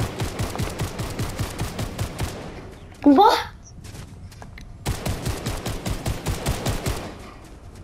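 Rapid bursts of automatic gunfire rattle in quick repeated shots in Fortnite Battle Royale, pausing briefly while a voice speaks in the middle, then resuming loudly.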